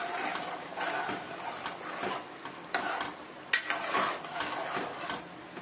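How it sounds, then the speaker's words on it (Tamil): A pot of village-style vanjaram fish curry is stirred, giving soft, irregular scraping and light metallic clinks, close but fairly quiet, with no talking. "கலக்கி விட்டுக்கலாம்."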